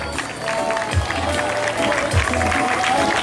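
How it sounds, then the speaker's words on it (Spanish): Poolside spectators clap in a steady, fairly loud patter to welcome the Parque Comunal swim club at a swimming meet, with crowd murmur mixed in. "Fuerte el aplauso para el Parque Comunal"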